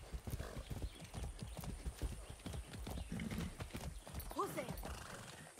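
Horse hooves clip-clopping in the video game Far Cry 6, a steady run of hoof beats with a brief whinny near the end, under a person talking.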